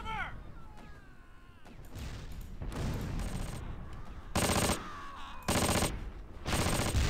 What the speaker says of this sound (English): We've already got enemy mortars falling on us.